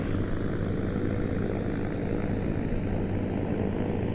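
The Eviation Alice, an all-electric passenger plane in Microsoft Flight Simulator, flies with a loud, steady drone and hum that holds unchanged throughout.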